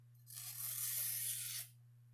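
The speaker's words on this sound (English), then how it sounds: "Now, if you go to cut this little piece of paper," A sharpened knife blade slices through a small piece of paper in one smooth, hissing pass lasting over a second, close and fairly quiet over a steady low hum.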